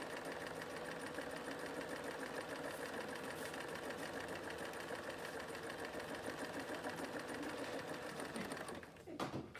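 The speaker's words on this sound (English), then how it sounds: "So I've stitched those couple of extra stitches there." A sewing machine runs steadily, stitching a fabric quilt block with a quarter-inch seam. The motor hums and rattles close by at an even, continuous pace, then stops abruptly near the end.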